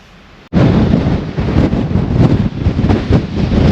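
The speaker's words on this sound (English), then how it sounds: "Well, it's pretty windy up here, I don't know if you can hear me." Strong wind buffets the microphone up on a Dartmoor moor near Great Mis Tor, a sudden loud roaring rumble kicking in after a quiet half second and gusting continuously to the end.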